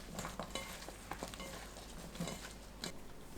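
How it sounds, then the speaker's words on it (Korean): Zucchini and eggplant are tossed with raw soybean flour in a bowl, making faint, soft rustling stirs and light taps, quiet and close with a steady background hiss. "물이 끓으면 애호박과 가지에 날콩가루 넣고 섞어주세요"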